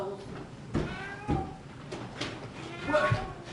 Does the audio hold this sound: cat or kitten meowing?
yes